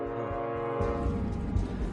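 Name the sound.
train horn and train running on rail lines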